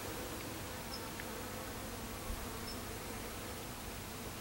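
A steady, close hum of honeybees buzzing fills the air continuously at low level, with no voices and only a tiny click partway through.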